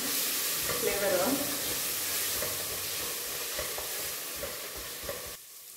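Ginger garlic paste hits a hot pan for a millet dal khichdi and sizzles loudly and continuously, with light stirring scrapes until the hiss abruptly cuts off.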